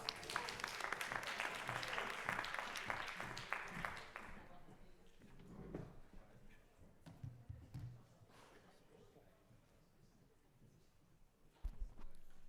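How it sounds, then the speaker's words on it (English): An audience claps loudly for a few seconds; the applause fades into scattered claps, shuffling and quiet room noise. "Please give them a warm round of applause."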